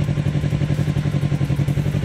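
Motorcycle engine idling and pulsing in a rapid, steady rhythm as a learner slowly releases the clutch with light throttle to pull away, close and fairly loud with a faint mechanical clatter.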